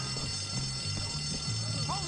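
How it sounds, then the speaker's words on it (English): Pulled fire alarm in the Bully video game, a low steady buzzing tone pulsing in a regular on-off rhythm beneath loud overlapping talk and game noise. "Pulling the fire alarm like I always do."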